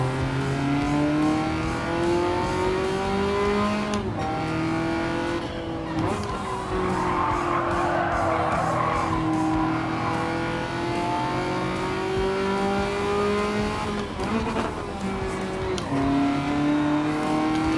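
A race car in Gran Turismo 7 screams along at high revs on the last lap, downshifting and braking hard into a corner with tyre squeal, then accelerating away, loud and continuous with repeated pitch drops.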